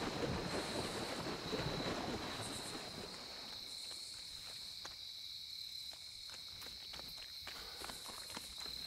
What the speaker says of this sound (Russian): ни хрена себе звук просто шагания по воде сделан, как будто бегемот, знаете, огромный просто пересекает воду